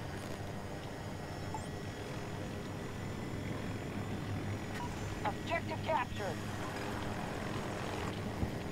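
Attack helicopter in the video game Battlefield 2042 at a desert colosseum map, a steady distant rotor and engine drone running through the whole stretch beneath game sounds and a brief spoken line.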